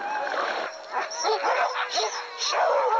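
Sled dogs bark and yip in a busy chorus along the Blue Lakes Road, several animals calling close by with overlapping bursts and whimpers throughout.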